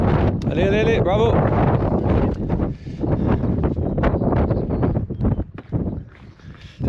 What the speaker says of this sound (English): So it's a bit windy up here.